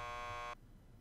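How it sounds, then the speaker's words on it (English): Door buzzer in the Max Payne 2 video game, a single steady electronic buzz lasting about half a second before cutting off into quiet room tone. "Just press the buzzer by the door."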